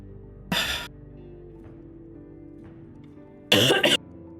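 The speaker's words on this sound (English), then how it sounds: "I finished my drink and now I'm coughing" A person coughs twice right after finishing a drink, each a short harsh burst about three seconds apart, close and loud over a quiet room hum.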